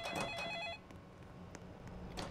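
A phone rings in a Roblox horror video game, giving a short trilling ring that cuts off after under a second, followed by faint game ambience with occasional clicks.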